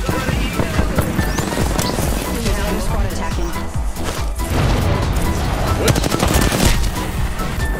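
Rapid gunfire in Apex Legends crackles in dense bursts and volleys, with scattered impacts and excited voices talking over the shooting.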